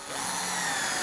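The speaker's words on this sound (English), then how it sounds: "We just take 2 screws, go right through there into our drawer" A power drill whines steadily as it drives screws into a wooden drawer, a loud continuous motor buzz that holds without pause for about a second.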